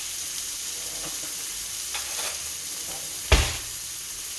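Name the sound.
vegetables sizzling while cooking in a pan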